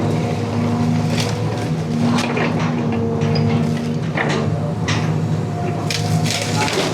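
Heavy machinery crushing concrete rubble and scrap iron while demolishing a riverside school building, a steady loud engine drone with grinding and crunching bursts throughout.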